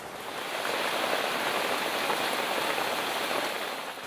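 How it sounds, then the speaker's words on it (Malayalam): Steady rain pours down in Kozhikode, Kerala, a close, even hiss of drops on surfaces that swells slightly and holds throughout, with no voices over it. "മഴയാട്ടോ"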